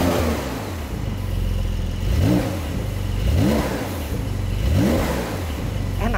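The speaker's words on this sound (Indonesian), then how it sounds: "Enak suara knalpotnya." Porsche sports car exhaust in Sport Plus mode, revving three times in a row with rising engine pitch over a steady idle, loud and close with no talk.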